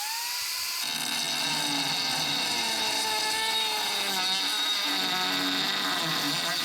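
A power tool cuts off a metal plate on a mini jet boat, producing a loud, continuous high-pitched whine that spins up after a moment and then holds, with shifting tones as the cut goes on.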